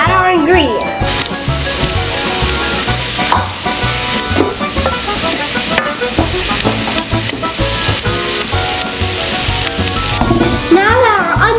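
Onions fry in browned butter for a lamb ravioli dish made by kids, giving a steady sizzle with occasional stirring beneath loud background music and talking voices.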